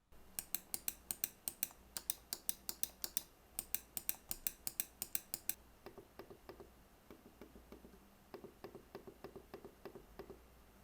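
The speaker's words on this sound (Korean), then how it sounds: "다른 로지텍 마우스들과 비교해서 확실히 더 조용한 클릭음이 났습니다." A Logitech Lift vertical mouse clicks quietly and close up, in quick irregular bursts of small sharp ticks, a faster run first and then a softer, sparser series, with no talking.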